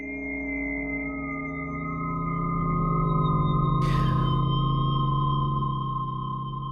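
A designed atonal horror atmosphere builds as layered sustained drones and dissonant tones slowly swell in loudness, pierced midway by a brief sharp noisy burst, then holding steady and unsettling without any voices.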